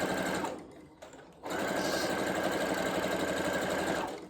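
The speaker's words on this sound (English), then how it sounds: "my brother CS 6000i computerized sewing machine." A Brother CS6000i computerized sewing machine stitching a throw pillow, a fast steady mechanical whir that pauses briefly and then resumes at full speed, close and loud, with no talk.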